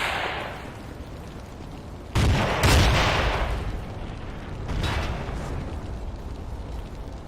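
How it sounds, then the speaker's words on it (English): A grenade blast in Battlefield 2 erupts as a sudden loud boom partway through, its rumble decaying over a couple of seconds, with a smaller burst following amid steady battlefield background noise. "ألقيت قنبلة"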